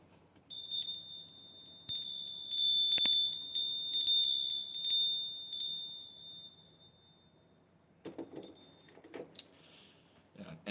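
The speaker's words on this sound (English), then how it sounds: "We're going to give one last bell." A bell is rung several times in a row, each bright, ringing strike sustaining and overlapping the next before fading, followed by some faint handling noises near the end.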